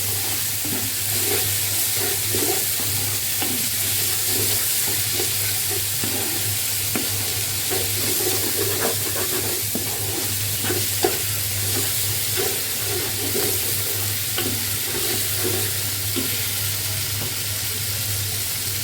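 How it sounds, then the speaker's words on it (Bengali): Spices with cumin powder frying in a pan, a steady loud sizzle with spattering crackles and occasional stirring scrapes, close up and without talk. "এখন কিন্তু মশলাগুলো ছিটে উঠতেছে, এই জন্য সবার আগে আমাকে একটু লবণ দিতে হবে।"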